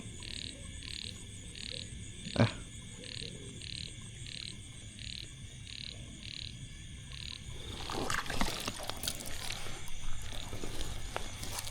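A frog croaks in a steady rhythmic pulse beside a fishing spot at dawn, set against insect buzz and distant ambience, with a sharp knock and some rustling late on.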